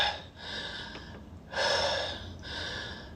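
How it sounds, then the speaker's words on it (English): Heavy, ragged breathing from a man right after lifting weights: a few deep, loud gasping breaths close to the mic, each a rough, airy rush with short gaps between. "I'm breathing pretty fucking hard."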